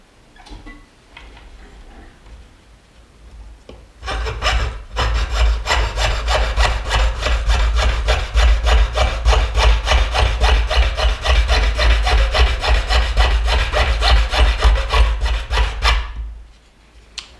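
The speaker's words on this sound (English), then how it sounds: "come in with the saw and go ahead and saw the basic, or the main parts of the bale out" A jeweller's saw cuts out the bail of a gold pendant in steady, rapid back-and-forth strokes, loud and close, starting after a quiet few seconds and running for about twelve seconds before stopping.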